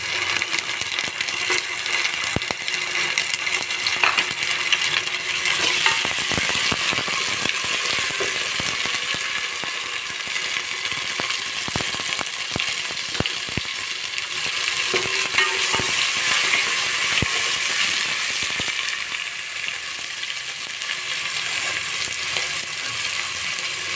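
Ginger and garlic frying in a hot pan, a steady loud sizzle throughout with scattered clinks and scraping of stirring, no talk.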